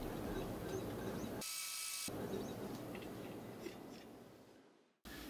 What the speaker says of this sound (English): we need to manually raise the gantry